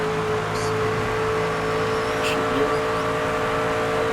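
A NASCAR truck engine drones steadily through a practice lap at Charlotte in NASCAR 25, a constant loud tonal hum with no clear revving changes and a couple of faint high chirps.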